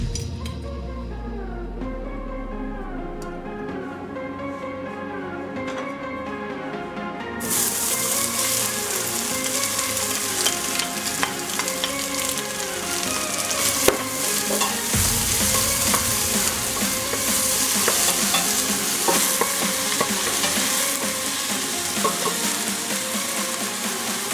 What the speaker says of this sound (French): je vais ajouter mon huile d'olive, ensuite les oignons